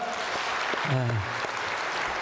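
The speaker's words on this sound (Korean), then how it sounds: "참 성가대 또 하나님 영광 박수 한번 하겠습니다." A church congregation at a Korean worship service applauds the choir, a steady wash of clapping with a brief voice rising out of it midway.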